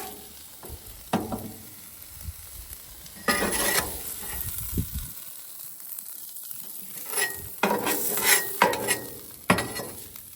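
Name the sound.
ground turkey frying and being stirred in a pan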